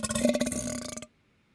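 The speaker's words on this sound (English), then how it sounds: "There's even a human burp kind of in there." A human burp from a sound-effects collection, one long guttural belch with a rumbling, rattling texture that stops abruptly after about a second, followed by silence.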